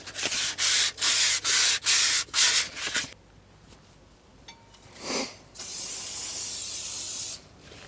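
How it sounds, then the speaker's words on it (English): 400-grit sandpaper rubbed by hand over a semi-trailer axle spindle to smooth burrs, a series of loud, rhythmic rasping strokes, then a quieter pause and a few longer, steady scrubbing passes. "I'll just smooth this out with like some 400 grit sandpaper."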